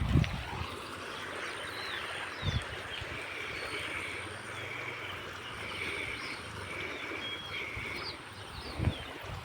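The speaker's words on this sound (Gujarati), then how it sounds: "તો અત્યારે ઘણું બધું પાણી જાય છે" Floodwater rushes through a farm after heavy rain, a steady broad rushing wash that carries on for the whole stretch, with a few soft thumps and no talking.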